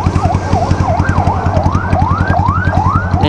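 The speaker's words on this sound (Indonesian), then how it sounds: "Ada ambulan guys." Ambulance siren wailing in repeated rising and falling sweeps, loud and close, over the steady low idle of a motorcycle engine.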